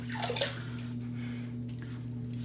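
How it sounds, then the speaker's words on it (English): Water splashing as a man rewets his face with his hands before a wet shave, a quick run of close splashes and drips followed by softer running water over a steady electrical hum. "Now I'm just going to re-wet the face."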